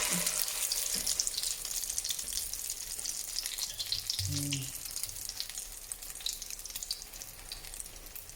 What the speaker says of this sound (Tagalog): alam niyo na kung paano mag-prito, guys, diba?